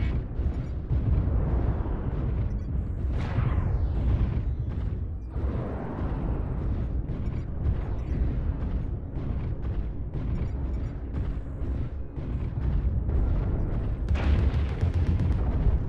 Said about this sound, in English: Airstrike online.